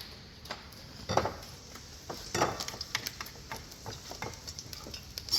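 A spatula knocks against a cooking pan in a kitchen, a series of sharp, fairly close metallic taps at irregular intervals over a faint sizzle.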